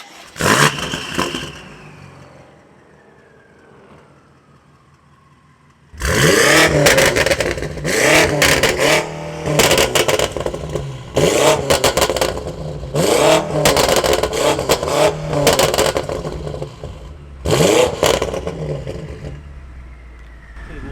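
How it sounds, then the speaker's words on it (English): A BMW M5 fitted with exhaust clips revs hard in repeated loud bursts, with whooshing turbo spool rising and falling between them, close by, after a quieter opening stretch of idle and a fading whine. "that's all you hear is just turbo spool"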